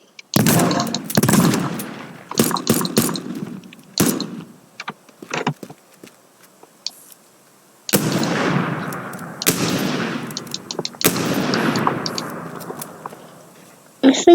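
Sniper rifle shots ring out in the video game Teardown, several sharp loud cracks each trailing into a long rolling echo, separated by quieter gaps with small clicks.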